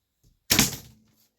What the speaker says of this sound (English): let an arrow loose, and fire safely into our target box